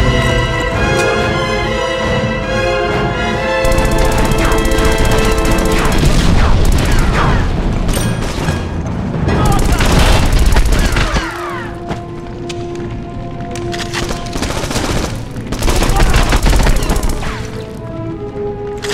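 Gunfire in a first-person shooter video game, a dense, loud mix of rapid shots, thumps and booms with mechanical clatter running continuously through the clip, with no clear talk over it.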